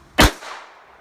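A single sharp revolver shot fired at a target at an outdoor range, loud and close, with a short decaying echo trailing off afterward.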